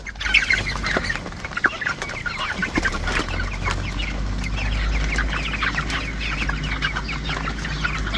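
Broiler chicks on a small farm chirping and clucking continuously in a busy overlapping chorus, close and fairly loud, with a low steady hum beneath and no talking.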